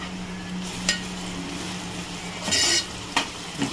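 Onion and finely chopped garlic fry in a pan while being stirred: a steady hissing sizzle broken by sharper scraping bursts of the spoon, loud and close, with no voices.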